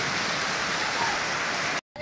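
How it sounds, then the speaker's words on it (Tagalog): Heavy rain pours in a dense, steady hiss, close and loud, continuing unbroken before cutting off abruptly near the end. "Lakas po ng ulan."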